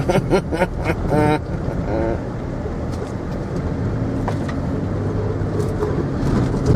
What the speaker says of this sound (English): I'm driving on grass now